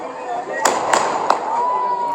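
Three sharp firecracker bangs go off in quick succession against a busy background with voices, each a brief, crisp crack.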